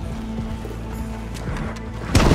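Soft clip-clopping horse hoofbeats in Red Dead Redemption 2 plod along over a steady low background hum, ending with a brief louder rustle.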